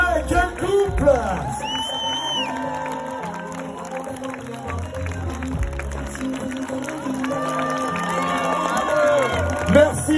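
A crowd cheers, claps and whoops for a finisher crossing the line at the Grand Raid trail race, steady and lively throughout, with an announcer talking over it.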